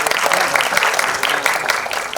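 An audience at a ghazal album launch applauds in a loud, dense, continuous wash of clapping from many hands, filling the space for a couple of seconds.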